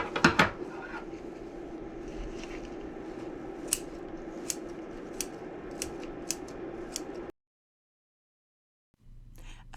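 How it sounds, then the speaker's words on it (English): Scissors snip the little ends off plants in a mobile home kitchen, a string of sharp, close clicks spaced roughly evenly over a steady background hiss, ending abruptly in silence. "So we're just going to cut the little ends off like this"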